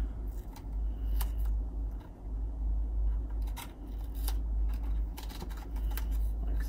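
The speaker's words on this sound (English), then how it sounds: "I like to take a piece of duct tape or the tape that we use to tape the drain and tape around the tub" Two-inch duct tape being torn and pressed around the lip of a bathtub during refinishing: sharp, close crackles and snaps come in irregular bursts over a constant low room hum.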